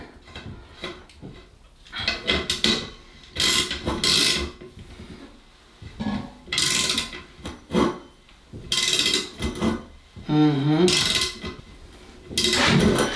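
A pipe fitting being tightened on a five-metre shower heat-recovery drain tube during a small studio renovation, heard as close, intermittent bursts of scraping, rubbing and clicking with short pauses between them.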